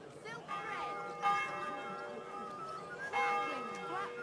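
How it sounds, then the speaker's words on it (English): A church bell rings out over a medieval market in Kingdom Come Deliverance 2, its sustained tones swelling twice under steady crowd chatter and vendor voices. "sound the bell"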